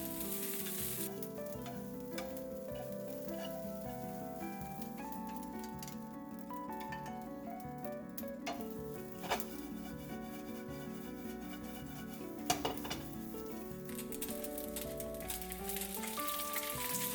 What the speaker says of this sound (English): Add in the rice and fry it for about 3 to 5 minutes on high heat.